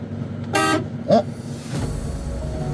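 Two short blasts of an air horn on a MAN TGM truck, the first longer and louder, the second brief, followed by a quieter tone and low engine rumble.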